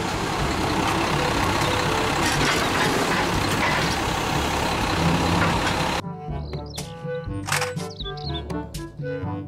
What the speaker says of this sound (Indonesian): Mobil truk sampah.